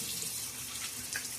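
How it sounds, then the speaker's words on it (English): Water runs steadily from a bathroom tap into a sink as someone splashes it on their face during a wet shave, a close, even hiss with brief splashy bursts. "Splash a little bit more water on my face now that it's had a chance to kind of dry."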